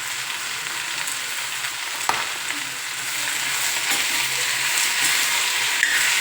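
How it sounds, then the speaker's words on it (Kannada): Capsicum fries in a pan for gravy with a bright, steady sizzle that grows slightly louder over time, broken by an occasional knock. "ಒಂದು 3 ರಿಂದ 4 ನಿಮಿಷ ನೀವು ಇದನ್ನು ಫ್ರೈ ಮಾಡ್ಕೋಬೇಕು."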